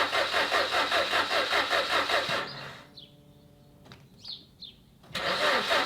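A 2007 Ford Focus 1.6 Ti that sat abandoned cranks over steadily, a rhythmic, chugging starter whirr that runs for about two seconds without catching. A short lull follows with faint birds, then a second burst of cranking starts.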